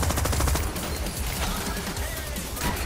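Rapid continuous gunfire fills a firefight in the heist video game Crime Boss Rockay City, dense overlapping bursts and shots with a heavy low rumble, loud and unbroken throughout.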